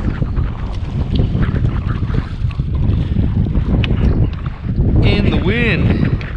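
Strong wind rushes steadily across a lake around a fishing boat at Cochiti Lake, New Mexico, as a loud continuous roar buffeting the microphone, with people talking now and then beneath it.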